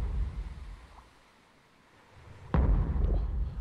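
A shark rams a boat in the video game Stranded Deep, a sudden heavy booming thud over rumbling water and engine noise after a brief quieter lull.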